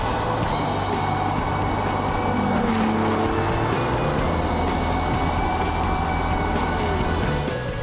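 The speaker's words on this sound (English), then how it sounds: "With the roof down, your ears melt with the sound of that amazing V12 engine." An Aston Martin DB9 Volante's V12 engine roars steadily throughout, a deep sustained growl with rising and falling tones, loud and close, with no talking.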